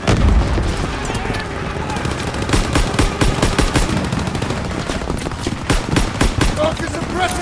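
Heavy gunfire rattles continuously in a Call of Duty WWII assault, with machine gun bursts and sharp single shots close by, layered over a low rumbling din and shouting voices.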